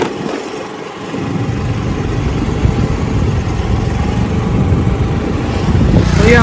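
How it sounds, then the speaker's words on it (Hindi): A scooter engine runs and is revved during a ride through a town square, a steady mid-low hum that rises slightly toward the end, continuous and close with no voices. "सिर्फ आपको जो इंजन चल रहा है जो रेस दे रहे हैं उसी की आवाज़ आ रही होगी बस।"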